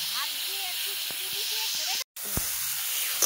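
Spice-washing water is poured into a hot pan of spices for prawn malai curry, producing a loud, continuous steaming hiss that fills the scene, with a brief clatter partway through.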